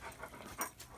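Dogs panting in quick, soft, breathy rhythm at close range, fairly quiet, with no talking.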